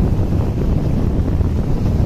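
Strong wind buffets the microphone by a river, a loud, continuous low rumble with no voices.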